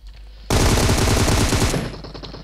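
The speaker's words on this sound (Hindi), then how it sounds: "मोस ने गोलियां मुझे मारी हैं" A loud burst of rapid automatic gunfire in the video game PUBG lasts over a second and then trails off into quieter echoing noise.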